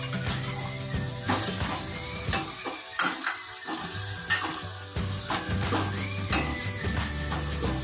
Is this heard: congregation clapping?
no